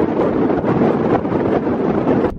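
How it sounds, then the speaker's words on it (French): Strong wind in Ireland roars and buffets the microphone, a loud, continuous rumbling gust that cuts off abruptly at the end. "il y a tellement de vent"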